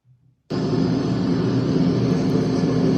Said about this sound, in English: And here is our plane